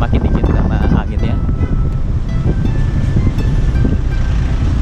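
Strong, steady wind roars and thumps against the microphone on a moving motorbike taxi in chilly Guangzhou morning air, loud and unbroken, with a person speaking underneath.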